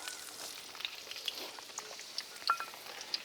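Fennel seeds and finely chopped ginger dropped into hot oil for a Kerala beef curry, giving a close, continuous crackling sizzle with small sharp pops throughout.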